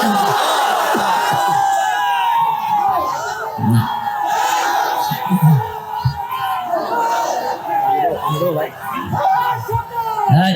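A crowd at an Islamic religious gathering (mahfil) chants the takbir in answer to a call, a loud mass of many voices rising and falling in waves throughout.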